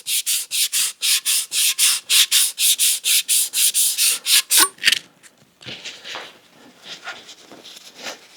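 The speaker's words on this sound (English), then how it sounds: "I'm just hitting this with 400 grit. I want to make this as nice and smooth as I can." Rhythmic back-and-forth sanding strokes with 400 grit sandpaper on a dropper seatpost, about fifteen quick even passes, close and loud, then a softer, irregular rubbing.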